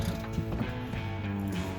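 A ratchet turns the crankshaft pulley of a 2013 Honda Pilot 3.5L during a timing belt job. It gives a close, steady run of mechanical clicking and ratcheting with a faint tonal hum underneath, and no talking.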